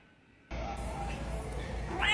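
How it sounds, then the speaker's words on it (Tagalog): Blue, a pet house cat, lets out a short meow near the end, faint under a steady hiss of room noise. "Ito nga pala yung pusa ko, si Blue."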